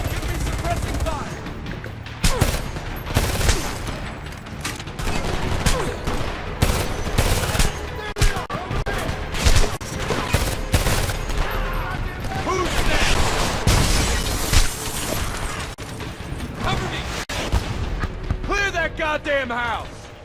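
Gunfire in Homefront fills a firefight, a dense stretch of shots, bursts and explosive thuds that runs throughout at a loud level, with in-game voices shouting over the battle.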